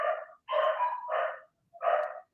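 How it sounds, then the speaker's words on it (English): Several dogs bark in loud, sharp bursts at close range, four clusters of yelping barks separated by brief silent gaps, with no voices. "the dogs are going ape"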